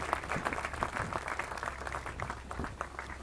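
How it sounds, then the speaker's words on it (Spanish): Thin, scattered clapping from a modest audience at an agricultural forage and harvest event in Oncativo, individual claps audible over a low steady hum, fairly quiet and brief. "regálenle un aplauso de 20 segundos, aunque sea"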